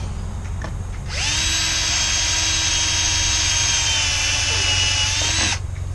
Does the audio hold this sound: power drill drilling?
yes